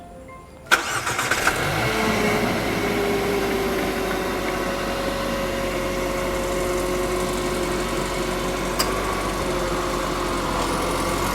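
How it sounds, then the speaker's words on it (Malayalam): A 2020 Renault Duster with a 1.3-litre turbo petrol engine is remote-started from outside. A sharp crank catches and the engine settles into a steady, fairly loud idle with a constant hum that continues to the end, with no talk. "വാഹനം നമുക്ക് പുറത്തുനിന്ന് സ്റ്റാർട്ട് ചെയ്യാൻ പറ്റും"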